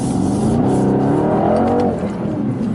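A 2020 Mercedes-AMG C63 S Coupe in Sport+ mode accelerating hard, its engine note rising steadily in a loud, close roar before easing off near the end, with no voices.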